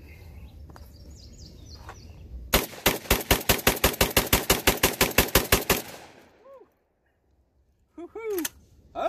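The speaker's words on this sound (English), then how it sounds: "Shot all 20 there. That's fun with a 12 gauge." A 12 gauge shotgun fed from a Silver Eagle drum magazine fires about twenty loud, evenly spaced rounds in a rapid steady string, then falls quiet as birds chirp in the background.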